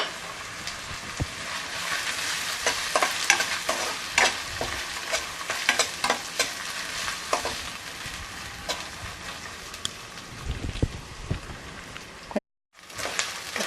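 Fresh green peas stirred and frying in a pan for paneer rice, a steady close sizzle with repeated scraping stir strokes, broken by a brief gap near the end.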